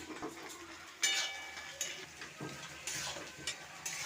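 Sliced onions fry in a pan with a pinch of salt for a Bengali fried rice and chilli chicken meal, a soft close crackle broken by several scraping stirs and clinks of a spatula against the pan.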